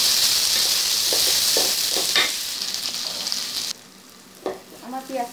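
Chopped onions and green chilies fry in hot oil for a dried-fish and taro-stolon dish, giving a loud, steady sizzle with occasional stirring scrapes; the sizzle drops away abruptly near the end, leaving a few quieter clinks and a faint voice.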